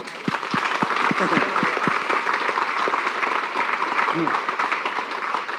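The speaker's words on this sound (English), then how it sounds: "so let's give him a round of applause." Loud audience applause at a live strength-training seminar, dense clapping filling the room with some cheering and voices mixed in, sustained at a steady level.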